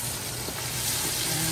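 Tomatoes dropped into a large hot soup pot for beef pochero, giving a close, steady crackling sizzle that holds evenly through the short moment with no voices over it.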